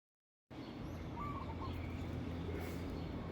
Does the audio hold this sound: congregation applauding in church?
no